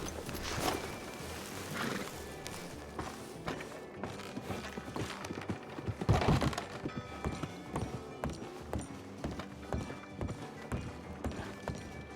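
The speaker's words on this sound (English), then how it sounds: "Random horse." A horse in Red Dead Redemption 2 clip-clops along in a steady rhythm of hoofbeats, close and moderately loud, mixed with soft game ambience and faint background sound.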